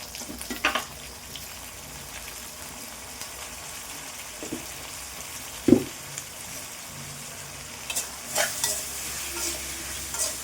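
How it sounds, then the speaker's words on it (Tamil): Quiet sizzling from tomatoes cooking in a pan with garlic and curry leaves, broken by occasional spoon scrapes and clanks as the mixture is stirred. "தக்காளி நல்லா வதங்கணும் கொஞ்சம் நேரம் வெயிட் பண்ணுவோம்"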